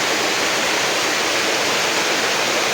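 A strong waterfall pours down in a steady, loud, broadband roar, heard up close on a climb beside the falling water, with no talking.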